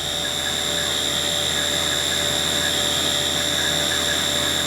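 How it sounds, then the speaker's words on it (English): A Haas milling machine with an HA5C fourth axis chamfers the end of a bar with a 90-degree end mill, giving off a loud, steady, high-pitched machining whine that holds without a break. "First, we're putting a chamfer on the end of the bar with a 90-degree end mill and another chamfer"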